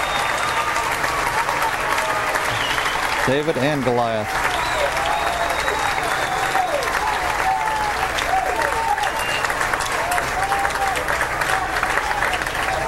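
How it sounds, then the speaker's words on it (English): Continuous applause from a golf gallery rolls on at the 2000 PGA Championship playoff, a dense, steady crowd clapping that persists while a commentator briefly speaks over it. "And that applause is for both of the players"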